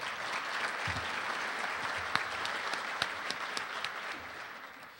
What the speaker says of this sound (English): Can we have one more round of applause for all of our sponsors?